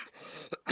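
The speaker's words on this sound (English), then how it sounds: "This fucking cough's doing me head in." A single short, rough cough bursts out near the mic from someone struggling with a persistent cough, followed by a louder breathy burst, with no talking.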